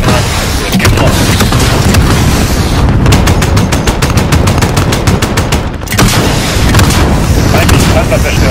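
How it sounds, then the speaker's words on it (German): Attack aircraft firing 30 mm cannon in Call of Duty Modern Warfare, loud rapid bursts of dense rattling fire with booming impacts, one long sustained burst followed by another after a brief lull. "Greife mit 30 mm geschossen an."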